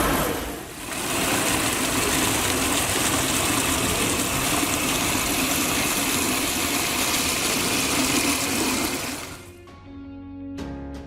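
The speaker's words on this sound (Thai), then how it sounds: "ดี๋ยวเรามาดูกันเลยนะครับว่าเสียงเครื่องจะเงียบขนาดไหนนะครับ เดี๋ยวลองเปิดจากก ๊อกแรกก่อนนะครับ เปิดก๊อกที่สองนะครับ" A Mirano PS150BIT automatic water pump runs with a steady, loud hum while water gushes from opened taps, holding constant for several seconds before cutting off into a few faint knocks and clicks.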